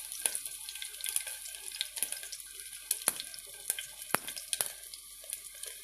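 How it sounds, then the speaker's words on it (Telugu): Crushed garlic and mustard seeds fry in hot oil for a drumstick tamarind curry, giving a steady close hiss broken by sharp irregular pops and crackles, with no voices. "నూనె బాగా వేడెక్కాక ఆవాలు వేసుకోవాలి. ఆ తర్వాత తెల్లగడ్డలు దంచి వేసుకుంటున్నా."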